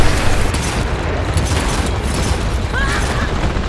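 A landmine blast on a staircase in the shooter game Dirty Bomb, a dense booming roar that fills the whole clip at steady loudness, with clanking mechanical game noise underneath and no clear voices.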